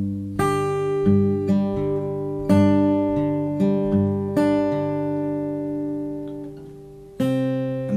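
Fingerpicked acoustic guitar plays a slow sequence of ringing chords and bass notes, each plucked pattern sustaining before the next, clear and close with no talking.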